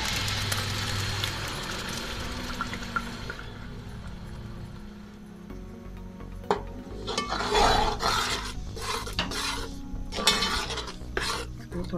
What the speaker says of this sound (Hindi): उसी में अब मैं ये ग्राइंड किया हुआ मसाला डाल दूँगी।